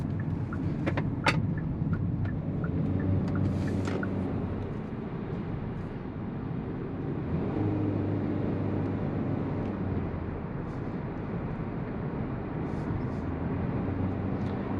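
A 2023 Hyundai Venue accelerates up a highway entrance ramp, heard from inside the cabin as a steady, moderately loud engine drone blended with road and wind noise for the whole stretch.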